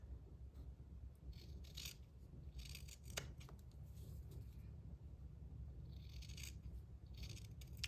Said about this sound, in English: And now I'm going to trim them off.